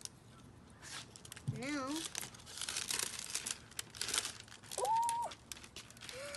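Crinkly plastic packaging of a Color Reveal Barbie doll is peeled open in short tearing, crumpling bursts close by, with someone speaking and exclaiming between them.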